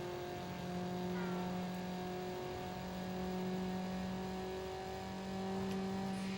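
A Mazda Miata engine drones steadily in the PS2 racing game Need for Speed, holding a sustained tonal hum at a fairly even pitch throughout, moderately loud with no clear speech over it.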